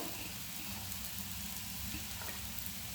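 Chopped garlic dropped into frying onions gives a close, even sizzle that holds steady for a few seconds.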